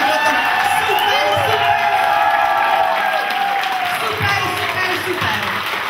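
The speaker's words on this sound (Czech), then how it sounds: "ještě jednou velikánský potlesk, protože jste úplně úžasný" A theatre audience gives a big round of applause after a performance of a play, loud sustained clapping with scattered cheers and whoops, with a voice talking over it and a tonal music line running underneath.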